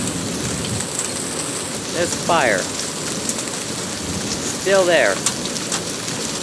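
Rain falls heavily and steadily through a severe summer thunderstorm, a dense close hiss that runs throughout, while a person speaks briefly over it twice.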